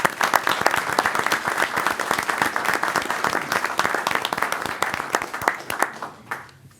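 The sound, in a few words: applause at village board meeting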